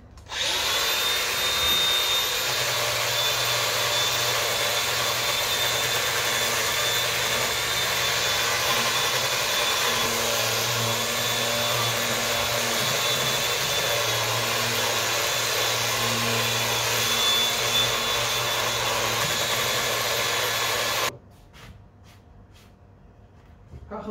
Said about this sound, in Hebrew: נלטש את זה בעזרת מברשת פלדה בנוסף, לחשוף בעצם את החריצים